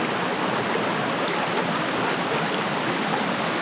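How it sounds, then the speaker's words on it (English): A waterfall pours down in an even, dense rush of falling water that stays loud and unbroken throughout, with no voices. "Doesn't look very big to have all that water going off that waterfall"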